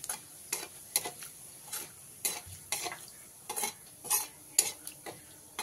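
Whole cumin, two dried red chilies and a bay leaf fry in oil left over from frying fish, a quiet sizzle broken by regular, close clicks and scrapes of a spoon stirring against the pan.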